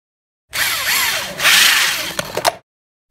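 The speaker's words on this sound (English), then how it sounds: "That was the drilling of the hole for the aperture" A power drill whirs for about two seconds, its pitch shifting as it bites in to drill an aperture hole for a pinhole camera, then it abruptly stops.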